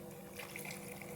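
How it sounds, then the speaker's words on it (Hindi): Water poured into a pot of pulao rice, a short continuous splashing rush heard up close, steady and fairly soft with no voices. "अब हम इसमें पानी डाल देंगे"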